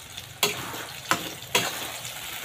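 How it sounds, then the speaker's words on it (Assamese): Eggplant pieces frying in a wok with egg and onions, a steady sizzle broken by three sharp bursts of stirring or tossing, close and fairly quiet with no talk. "বেঙেনাখিনি ধুনীয়াকৈ ভাজি আছোঁ"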